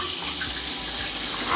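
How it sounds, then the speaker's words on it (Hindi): Water streams steadily from a household tap fitted with a spray head, a loud, close, continuous hiss with no voices. "बाहर आएगा पानी"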